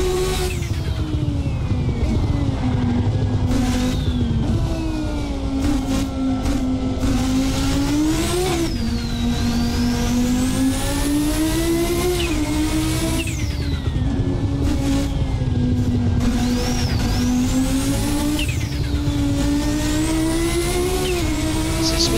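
A turbocharged, rear-wheel-drive Audi S1 silhouette rally car in Assetto Corsa drones loudly and steadily throughout, its pitch climbing under throttle and dropping sharply at each gear change, with no talk over it.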